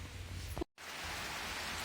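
Steady rain falling outdoors during a monsoon drizzle, a continuous close hiss of drops, briefly cut off by a short gap before resuming alone.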